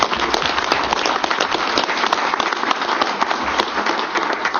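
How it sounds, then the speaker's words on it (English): Attendees at a tribal council meeting applaud the tribal casino employees with a loud, dense round of clapping that holds steady from start to finish, close and unbroken. "So I'd like to officially give our employees a round of applause"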